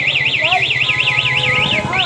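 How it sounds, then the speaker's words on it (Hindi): A loud electronic anti-theft lock alarm on a Bajaj Pulsar N160 motorcycle warbles rapidly up and down in a repeating siren pattern, close by, with a brief pause near the end before resuming. "ये इसमें ऐसे इस तरह से अलार्म करेगा"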